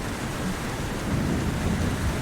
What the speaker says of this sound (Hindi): देखते ही देखते तूफान के साथ साथ तेज बारिश शुरू हो जाती है